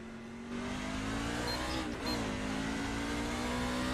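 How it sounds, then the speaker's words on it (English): A race car engine in a NASCAR video game at the USA International event drones with rising pitch, dips briefly at a gear change, then climbs again, steady and fairly quiet. "Is the audio okay as far as the engine sound and such?"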